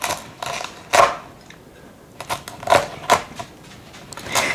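A knife crunches through crispy roast pork crackling in a series of sharp, brittle cracks and crackles, close and clear, spaced irregularly with short pauses between cuts.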